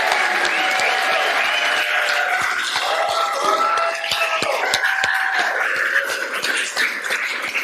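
Raucous round of congratulatory applause at a Nicholas School PhD commencement ceremony, a large crowd clapping steadily and loudly with scattered cheers and shuffling for several seconds.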